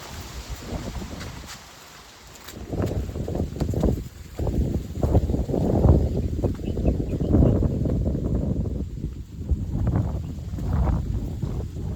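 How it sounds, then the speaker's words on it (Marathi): Strong gusting wind buffets the microphone on the rain-season slopes of Chavand hill fort near Junnar, a loud, fluctuating low roar that surges and eases in waves throughout. "कसलं वारं सुटलं आई शपथ"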